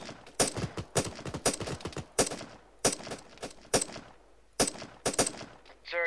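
Gunfire in Arma 3 during a military simulation co-op firefight: sharp, loud bursts of automatic fire in irregular clusters, separated by short gaps, with no talk over them.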